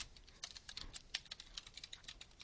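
Steady keyboard typing while C++ code is entered on a computer, a close series of quick irregular key clicks, some louder strokes standing out, with no talking.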